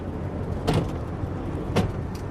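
A pull-out storage tray slides along its track in a 2011 Newmar Mountain Aire 4344 motorhome, two short scraping rolls about a second apart, close by over a steady low hum.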